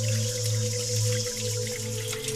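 Light water trickles and drips steadily close by as a small hillside runoff on Éloumdenne hill, Mendong, Yaoundé, accompanied by a constant low hum, with no voices.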